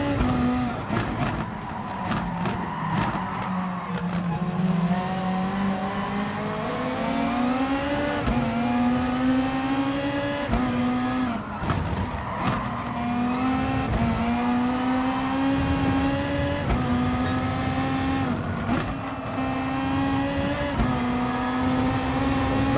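Race cars in Gran Turismo Sport at Laguna Seca launch and accelerate, engines droning and rising in pitch through repeated upshifts, a steady close motor roar with no talk.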